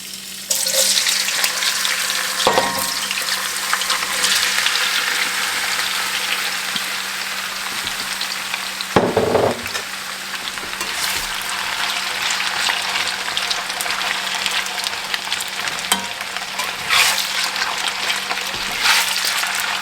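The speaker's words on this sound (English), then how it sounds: "I drop one little piece in to test it and see if it sizzles" Deer tenderloin sizzles and crackles in hot oil with a constant bright hiss, broken by a few soft clunks of utensils against the pan.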